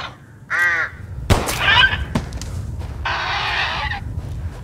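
A crow in Resident Evil Village gives a few harsh, rasping caws mixed with scattered game sounds, including a hiss and a sharp thud, fairly close over a low ambient rumble.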